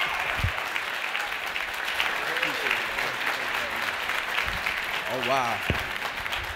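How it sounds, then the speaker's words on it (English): Audience applause fills a graduation ceremony hall as a motivational speaker is welcomed to the stage, steady and dense throughout, with a voice speaking briefly over it. "give your hearts and start clapping your hands right now"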